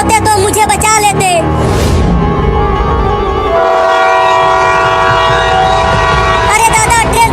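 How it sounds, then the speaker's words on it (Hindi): A cartoon train approaches on its track, its horn blaring loudly over a steady rolling rumble and clatter of the rails, with a second horn blast near the end. "अरे दादा, ट्रेन तो फिर से आने लगी, बचाओ रे कोई मुझे।"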